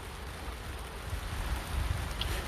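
Steady rain falls outdoors along the edge of the Marne river, a soft continuous patter with no voices, holding an even level throughout.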